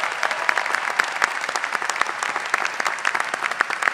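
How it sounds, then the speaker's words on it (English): Steady, crisp audience applause at a college commencement ceremony, individual claps distinct and evenly sustained throughout, with no voices over it. "please join me in one more round of applause for our 2024 Hodges Scholars"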